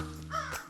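A crow caws from the video game Only Go Up, one short harsh call that rises and breaks off, heard alone and fairly close.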